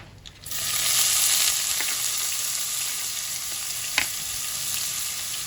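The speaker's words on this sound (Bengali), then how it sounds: "পেঁয়াজটা একটু ভাজা ভাজা হয়ে যাক।" Onions frying in hot white oil in a kadai wok; the sizzle swells up loudly within the first half second and holds steady, with a few light scrapes and one sharp clink near the end.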